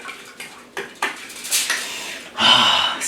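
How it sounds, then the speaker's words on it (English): Curry powders, paprika and yogurt being stirred into a paste in a bowl, with a series of short scraping clinks of utensil against dish, building to a louder, sustained scrape near the end. "we're just gonna give them a quick mix, make into a paste"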